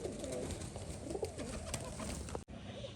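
Pigeons coo after bathing, a low rolling call that repeats close by over a busy, noisy background that cuts out abruptly near the end.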